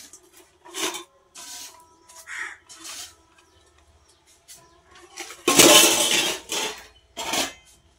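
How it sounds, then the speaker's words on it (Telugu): Metal pots and vessels are emptied and set down outside for scrubbing. Sparse clanks and scrapes rise to one loud clattering burst midway, with crows cawing nearby. "ఇంకా గిన్నెలని ఖాళీ చేసి బయట అయితే పడేస్తున్నాను తోమడం కోసం"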